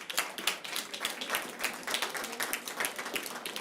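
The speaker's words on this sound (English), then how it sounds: "let's give a round of applause for this amazing group" A summit audience applauds a panel with brisk, crisp clapping of many hands, steady and fairly close throughout, with no talk over it.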